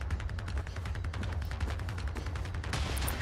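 Automatic rifle fire in the video game Generation Zero, a dense, rapid burst of shots rattling continuously for about three seconds with no pauses.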